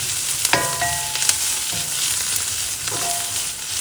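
Onions fry in a pan for a wild venison dish, giving a steady, close sizzle with a few sharp clinks and scrapes from stirring.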